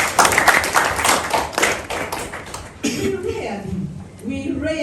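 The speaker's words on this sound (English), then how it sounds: "can we clap and thank God?" Audience clapping at a faith and family health gathering of cultural and religious leaders, a burst of claps for about three seconds that gives way to overlapping voices and chatter.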